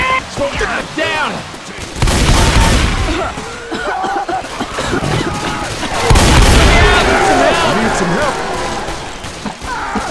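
Gunfire in Left 4 Dead 2 on The Passing campaign at Expert Realism difficulty: dense, continuous bursts of shots and blasts in a chaotic firefight, with players shouting over the shooting throughout.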